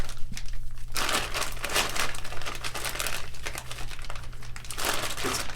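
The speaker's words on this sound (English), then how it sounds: "it just cut right through that plastic" A 440 stainless steel blade slicing through plastic wrapping, producing continuous loud crinkling and tearing rustles in several surges over a steady low hum.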